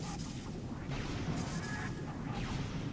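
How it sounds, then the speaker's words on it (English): A Morph Ball bomb goes off in Metroid Prime's Phazon Mines, a muffled boom that swells into a rumbling, crackling blast over dense game ambience, with a second burst following. "So what you do is you just go up here, bomb."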